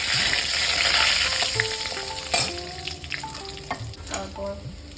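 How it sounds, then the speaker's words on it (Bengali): Chopped garlic fries in hot oil with a loud, even sizzle that eases slightly over time, with clinks and scrapes of stirring up close and no talk. "এই তেলের মধ্যে দিয়ে দেবো, প্রথমেই দেবো রসুন কুচি"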